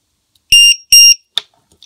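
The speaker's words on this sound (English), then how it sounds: "I'll let you know what the alarm sounds like." A cheap LiPo battery voltage alarm beeps loudly in two sustained, high-pitched electronic tones, each about a fifth of a second long, followed by a shorter chirp. The tones stand alone with no talking around them.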